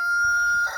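A mature rooster in a backyard chicken coop crows once, a short, clear, close call standing alone.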